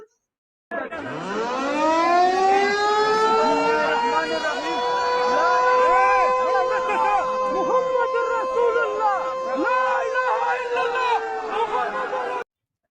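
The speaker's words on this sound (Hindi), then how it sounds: "रात में वहां मिसाइलें दिखी हैं और सायरन की आवाज सुनाई दी है पाकिस्तान में" Air raid sirens wail at night in Sialkot, Pakistan, a loud, rising howl that settles into a long, steady tone, with crowd chatter and voices underneath.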